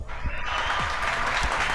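An audience claps in a dense, steady patter, close and continuous, with a faint voice underneath.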